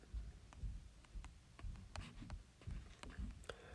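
Pen scratching on paper while working a trigonometry homework problem, a quiet series of short, quick strokes and taps in an irregular rhythm, close and faint with no talk over it.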